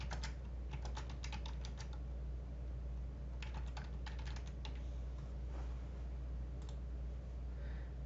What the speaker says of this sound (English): I can double click on it and type in what I want.